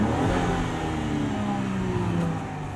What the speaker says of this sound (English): This 3-liter inline-6 does sound really nice.